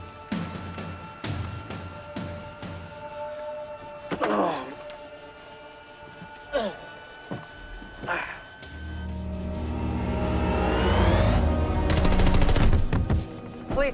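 Gunfire sound effect in a scored cinematic scene: sharp single shots punctuate the first half over a tonal music bed, then a dense rattling automatic burst builds toward the end alongside a rising engine-like roar.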